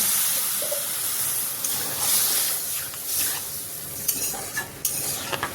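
Water poured onto oats and vegetables frying in a pan for oats khichdi gives a broad steamy hiss and sizzle, close and steady, then the hiss eases as a few utensil taps and stirs break through near the end.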